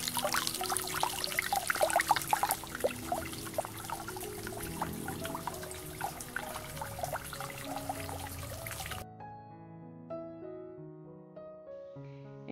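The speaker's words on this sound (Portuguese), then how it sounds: "Aqui está descendo a água." Water pours steadily down into the lower part of a backyard, a spot suited to keeping fish, as a full, close rushing flow for most of the stretch before it cuts off, leaving quieter tonal sounds.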